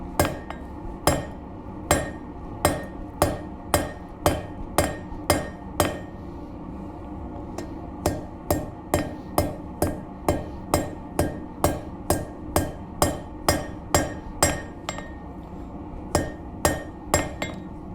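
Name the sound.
hammer forging metal on anvil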